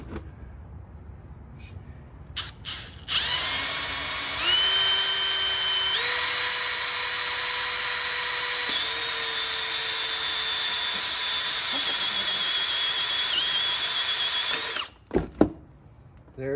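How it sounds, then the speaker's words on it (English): A power drill whines loudly and steadily for about twelve seconds while boring into a car oil pan on an Audi Q5 2.0T. The pitch steps up several times, then the drill stops with a few short clatters. "I drilled the oil pan"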